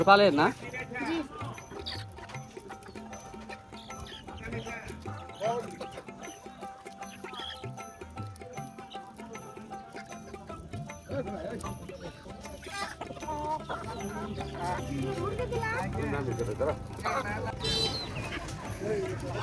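Chickens and roosters cluck repeatedly amid a busy village market hubbub in Bangladesh, with people talking throughout and the birds audible under the voices.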